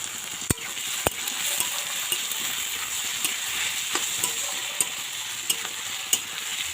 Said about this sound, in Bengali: পেঁয়াজটা ভাজতেই একটু বেশি সময় লাগে